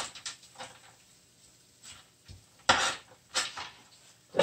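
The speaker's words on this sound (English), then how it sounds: "It would help if I had a spoon," A spoon clinks and scrapes against a bowl while mixing healthy chicken pot pie filling, giving a few scattered soft knocks and a couple of louder close scrapes with quiet gaps between.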